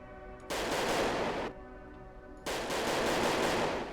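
Two sustained bursts of automatic gunfire from a video game in the Haunted PS1 Demo Disc, each about a second long, loud and dense, separated by a quieter stretch of background hum and music.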